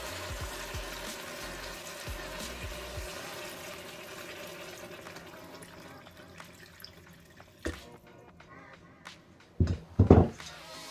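Water poured from a container over oxtails in a Ninja Foodi pot, a faint steady trickle and splash under kitchen background hum, ending with a few louder clinks and knocks of the pot.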